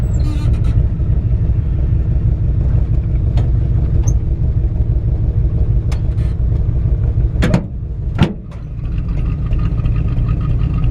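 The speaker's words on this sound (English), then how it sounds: "Got a nice little sounding exhaust." A 1965 Chevrolet C10 pickup engine runs at a steady idle with a deep, loud, close exhaust rumble, broken by a couple of brief sharp clicks near the end.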